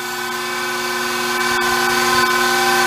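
Small metal lathe turning a brass workpiece, a steady machine whine with layered tonal hum and slight rising intensity, close and continuous with no talking.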